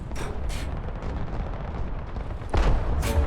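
Tank cannon fire in War Thunder: two or three sharp booms ring out over a steady low engine rumble, the loudest blast landing near the end, with no talking.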